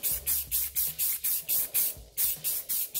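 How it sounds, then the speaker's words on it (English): Repeated short bursts of black aerosol spray paint sprayed onto a tumbler, about ten quick hissing sprays in a steady rhythm, close and fairly loud. "we're going to spray it real quick"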